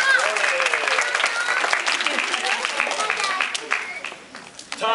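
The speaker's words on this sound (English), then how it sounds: "Let's also give a big round of applause to your parents." A theater audience at a children's production of Jack and the Beanstalk claps for the parents, a full, steady crowd applause with some voices mixed in, tapering toward the end.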